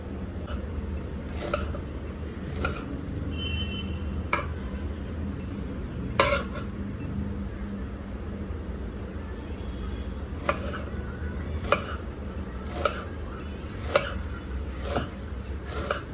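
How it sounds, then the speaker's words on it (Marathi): A knife chops washed dill leaves (shepu) in a home kitchen, making irregular sharp taps against a board over a steady low background hum. "तर आता कापून घेऊया भाजी"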